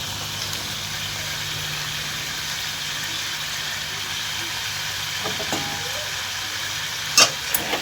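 Meat sautéing and being stirred in a pan gives a steady, moderately quiet sizzle with a constant low hum underneath, and a few sharp scrapes or clinks near the end.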